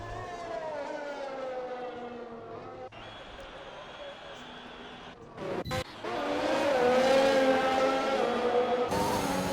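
Formula 1 race car in a racing game, set at the China circuit, passing the line: a high-pitched engine whine that rises in pitch and grows louder, alongside a voice talking.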